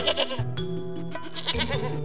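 Sheep and goats in a village bleat repeatedly and close by, several overlapping nasal calls in quick succession, loud and without talking.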